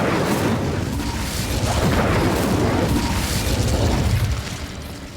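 The Incendio fire spell is cast in Hogwarts Legacy, producing a loud, sustained roaring burst of flame that rumbles continuously for several seconds before easing off slightly at the end.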